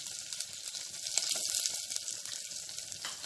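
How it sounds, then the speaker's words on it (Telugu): Spices, garlic, curry leaves and onion sizzling steadily in hot oil for a lentil and greens dal, a bright continuous hiss with small crackles, close and alone. "ఇప్పుడు ఈ పోపు బాగా వేగాలండి"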